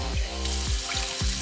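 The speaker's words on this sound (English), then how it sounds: "Rinse out the jar" Water runs and splashes while a jar is rinsed out at a sink, a continuous hiss with a few gurgling, glugging surges as the jar fills.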